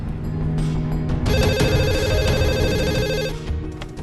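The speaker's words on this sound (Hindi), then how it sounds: "माँ को फोन लगा और डाल दे स्पीकर पे" A telephone ringtone plays over a speakerphone, bright and steady for about two seconds in the middle, with room noise around it and no talking.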